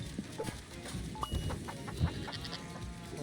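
Goats bleat and farm animals call in the co-op moving game Moving Out 2, short overlapping cries over a busy mix of game music and effects, moderately loud.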